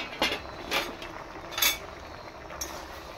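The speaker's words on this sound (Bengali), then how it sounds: "বন্ধুরা দেখি ঢাকাটা খুলে সিদ্ধ হয়েছে কিনা।" A pot lid comes off a pot of boiling jackfruit curry, giving a few light metallic clinks and scrapes spaced over a few seconds, fairly close and moderately loud, with no voices.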